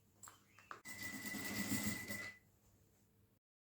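A sewing machine in a craft workshop stitches the side seams of a toiletry bag, opening with a few short clicks and ticks, then a steady whirring run lasting about a second and a half before stopping.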